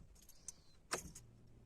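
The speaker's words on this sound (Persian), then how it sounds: "خب بریم روشن کنیم، بریم ببینیم ماشین چی جوریه" A Saipa Tiba car with a sport tune is started: faint keys jingle, then a short starter crank catches into a low, muffled engine idle, all quiet and close.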